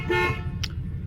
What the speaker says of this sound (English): Trumpet horn.